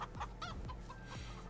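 Farming Simulator 22 chickens cluck softly in a few short, quiet bursts against a faint steady background, with no talking.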